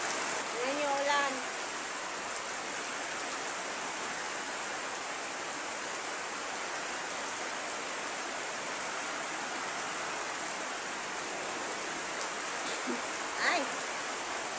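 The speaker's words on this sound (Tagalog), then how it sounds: "Ayan yung ulan." Heavy rain falls in the countryside of Zamboanga del Norte as a dense, constant hiss that fills the whole scene, with brief voices faintly heard at the start and near the end.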